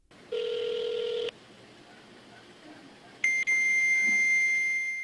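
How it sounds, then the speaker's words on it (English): Two electronic telephone tones sound while calling a fax machine number: a short steady tone, a pause, then a brighter, sustained higher tone that continues to the end. Both are loud and clean over a faint background. "We tried to call the numbers we found listed for these candidates."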